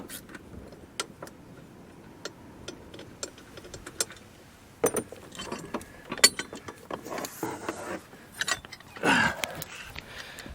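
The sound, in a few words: tightening two Allen screws on a Jeep Gladiator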